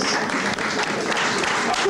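Loud, close applause from a festival audience for a gospel choir in Chartres, a brief dense burst of clapping with crowd noise mixed in.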